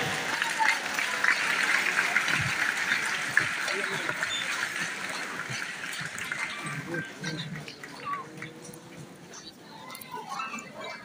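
Audience applause at a prize distribution ceremony for an annual Naat Khawani competition, a broad steady wash of clapping from a crowd that carries on for several seconds under an announcer's voice.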